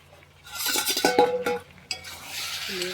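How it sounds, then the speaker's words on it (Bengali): Lid lifted off a pot of cooking meat, a few metallic clinks and scrapes of the cover against the rim, a sharp knock, then a soft sizzle from the pot. "এবার আমি মাংস ঢাকনাটা এই যে খুলছি"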